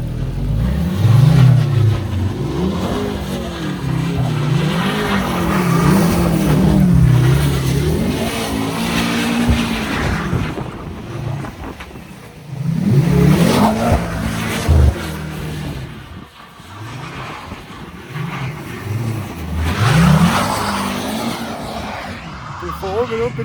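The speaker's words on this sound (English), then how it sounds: "At least the donuts work perfectly fine." Four-cylinder Mercedes C63 AMG doing donuts, its engine revving in repeated surging cycles while the tyres hiss and squeal in long skids, loud and close, with a person talking over parts of it.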